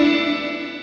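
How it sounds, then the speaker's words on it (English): A guitar chord rings through the reverb block of an Old Blood Noise Endeavours MINIM pedal, its lush, steady wash of sustained tones decaying only slightly, with no talking. "this control, of course, is the mix control for the reverb level"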